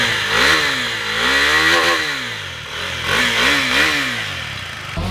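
The single-cylinder engine and exhaust of a 2022 KTM RC 390 sport motorcycle rev up and down in repeated swells. The tone rises and falls in a loud, close, buzzing drone, and there is no talk over it.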